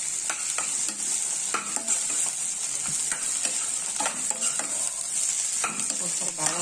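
Onions and other ingredients are stirred in a frying pan with a steady sizzle, and a spatula scrapes and clatters against the pan in repeated short strokes throughout, close up, with no talking.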